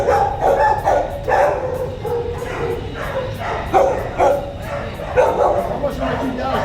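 Several dogs at an animal shelter bark and yip repeatedly in bursts, fairly close and loud, with a person talking over them.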